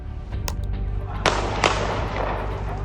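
Gunfire exchanged between rival gangs: a few sharp, isolated cracks spaced over a couple of seconds, ringing out over a low background rumble at moderate distance.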